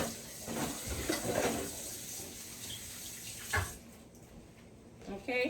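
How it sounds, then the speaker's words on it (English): A bathroom faucet runs steadily while hands are washed, a moderate broadband rush of water with small splashy shifts, fading out near the end followed by a couple of faint knocks. "Let me go wash my hands."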